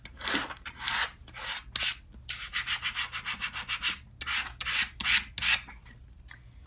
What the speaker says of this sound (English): Now you use your scraper. I lost my scraper, so I'm going to use a gift card that I have.